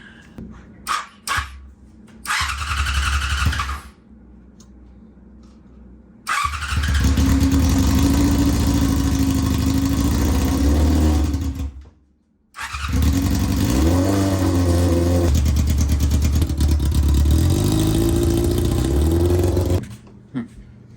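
A Yamaha R6 motorcycle engine with freshly refitted carburetors that are out of sync cranks in short bursts, then fires and runs loudly and close, revving up and down, with a brief cut-out midway before running again.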